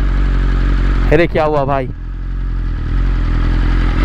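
A superbike's engine rumbles steadily at close range on an open road, its low idle-like drone continuing under a man's brief spoken exclamation in Hindi.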